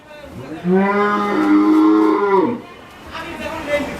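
A dairy cow near its calf at a cattle sale lets out one long, loud, close moo lasting about two seconds, followed by a softer, shorter low call.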